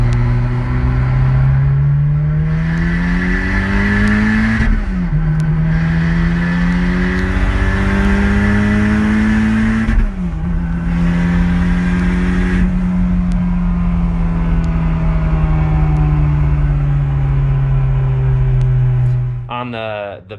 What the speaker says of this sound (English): I'll enter a clip in of me driving the car